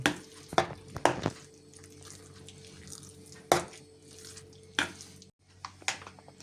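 A wet liver cake batter is stirred with eggs in a bowl, making soft, irregular squelching and clinking strokes, close and fairly quiet.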